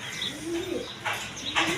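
Danish pigeons coo softly in a few short, low, repeated phrases, close by, with faint chirps and background noise.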